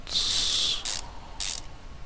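Ratchet tightening engine head cover bolts in Car Mechanic Simulator 2015: a long buzzing ratchet run followed by two shorter bursts, crisp and close with no talk.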